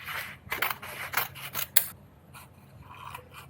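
Scissors snipping out a dried handmade craft piece, giving several quick close cuts in a cluster, then quieter, softer snips trailing off.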